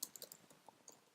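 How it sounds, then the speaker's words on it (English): Rapid typing on a computer keyboard as field names are entered into a form, with a steady run of close, light key clicks and no talk. "I'll simply start typing the field names I want"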